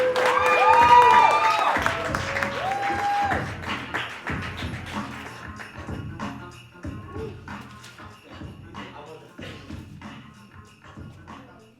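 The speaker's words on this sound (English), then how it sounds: "Can y'all start clapping right now? Start clapping right now." Audience at a spoken word poetry showcase claps and cheers, a dense burst of applause that starts loud under voices and fades to scattered claps over about twelve seconds.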